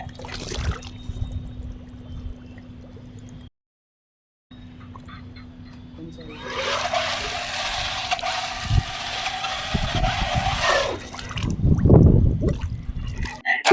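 A waterproof RC toy car running through water, giving a splashing, churning wash that builds midway and then eases, with a faint steady electronic hum and a brief break of silence before it.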